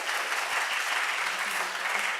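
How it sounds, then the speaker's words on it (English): Steady round of applause from a school theatre awards audience, dense and even throughout, honoring the theater officers, with no voices standing out. "so give them a round of applause."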